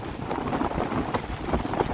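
Stormy seaside weather near Plymouth harbor, with a steady wash of rain and rough wind noise that stays constant and moderately loud for the whole stretch, with no voices.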